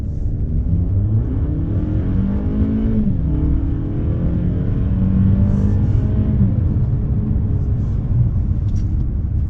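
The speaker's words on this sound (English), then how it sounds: "Still in the Avalon Limited all-wheel drive, and it's pretty amazing." From inside a Toyota Avalon Limited all-wheel-drive sedan, a steady engine rumble with rising revs carries over road noise. It is close and continuous, with no talk.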